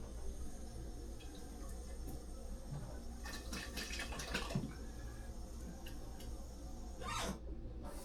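Tap water splashing and running into a bottle as it is rinsed out while baked beans are being made, a faint continuous trickle with brighter sloshing bursts midway and near the end.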